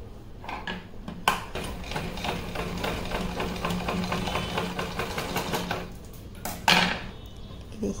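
A sewing machine runs steadily up close, attaching a small choli to a Laddu Gopal dress. Its rapid, rhythmic mechanical chatter carries on for several seconds, with louder clacks near the start and near the end.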